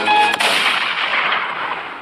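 Rapid burst of cartoon gunfire, bullets fired in a loud, dense stream right from the start, with a sharp crack near the beginning and a sustained rattling hiss that slowly fades over two seconds.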